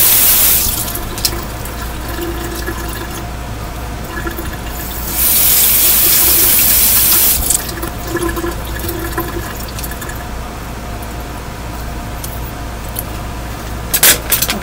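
Makeup brushes rinsed under a running tap at a sink, a loud, steady hiss of flowing water that swells when the stream hits harder midway, with small splashes and handling noises, no speech.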